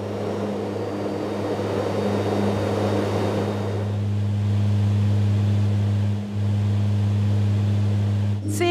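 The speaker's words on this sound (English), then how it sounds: "It's time for takeoff. The flight time from Amman to northern Gaza is only about 30 minutes." Propeller aircraft on a flight from Amman to northern Gaza, a loud steady engine drone with strong low hum heard from inside the cabin, a brighter rushing layer fading after a few seconds.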